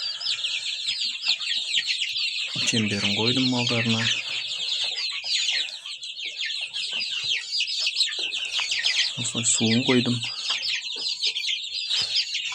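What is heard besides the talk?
chickens and one-month-old chicks clucking in pen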